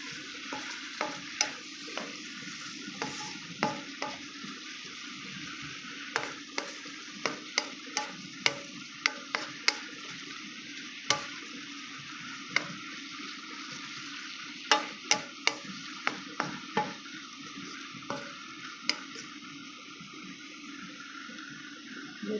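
Sotanghon noodles with scrambled egg are stirred in a pan, producing a steady run of sharp utensil scrapes and clacks over a soft, continuous sizzle, with no one speaking.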